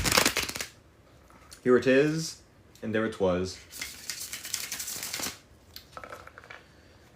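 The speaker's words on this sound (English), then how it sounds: "when I do the bridge shuffle as I'm about to do" A tarot card deck riffled in a bridge shuffle, crisp flurries of card flaps heard close by in short bursts, with someone speaking between and over them.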